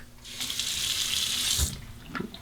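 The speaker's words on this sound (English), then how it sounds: "just run this under the cold water" Cold water pours from a bathroom tap over an alum block, a steady close hiss of running water that rises and stops, followed by a few small knocks and drips.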